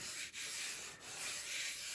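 Steady abrasive rubbing of sandpaper on a resin model torpedo boat hull, continuous back-and-forth strokes with brief pauses, close and fairly loud, no voices.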